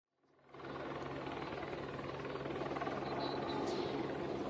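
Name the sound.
rescue helicopter during flood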